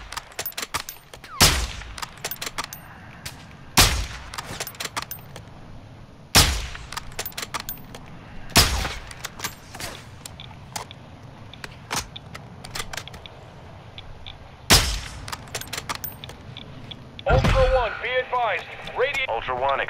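Gunfire in the Call of Duty video game: loud, sharp shots spaced a few seconds apart over a busy battlefield bed, with a burst of rapid fire near the end and voices talking underneath.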